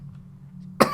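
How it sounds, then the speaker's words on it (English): Behind a closed door, one short muffled cough bursts out at the very end after near silence. "Eisen's cough frighteningly escalates behind the closed door."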